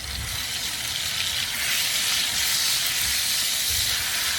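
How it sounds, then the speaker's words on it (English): Steady, loud hissing sizzle of beef frying in a hot pan, continuous and close, with no talking. "this pan is getting nice and hot. As you can tell, things are starting to sizzle."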